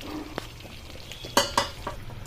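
Butter chicken gravy with kasuri methi is stirred in a pan, giving soft scrapes and a few sharp utensil knocks against the metal over a faint simmering hiss.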